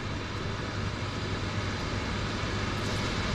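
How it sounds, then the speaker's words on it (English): A de Havilland Twin Otter floatplane climbs away after takeoff from a harbour float base, a steady, loud, broad engine and propeller drone with no breaks, heard alone. "Twin Otter is climbing beautifully, probably headed to Victoria Harbor"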